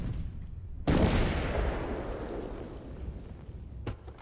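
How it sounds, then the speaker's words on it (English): Bombards firing in the Rise of Nations strategy game: one loud booming blast with a long rumbling decay, followed later by a fainter second shot. "Bombards are starting to take Killer down quite low here."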